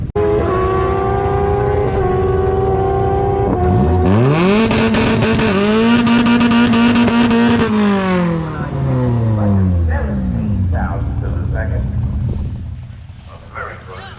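An all-motor Honda D15 EF hatchback engine runs on a dyno: a loud, close engine that idles, revs sharply up to a sustained high-pitched wail, then winds down again.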